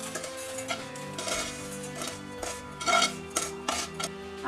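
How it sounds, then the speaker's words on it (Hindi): Roasted semolina is scraped from a pan onto a plate, metal utensil clinking and scraping against the pan in short, irregular strokes, close and moderately loud with no talking. "चलिए अब हम इसे प्लेट पर शिफ्ट कर देते हैं"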